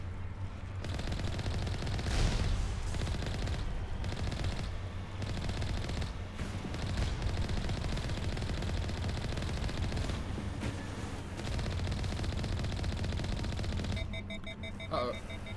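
Dense, sustained automatic gunfire in the Mass Effect video game, loud continuous bursts with brief gaps, heard close and without pause for most of the stretch before easing near the end.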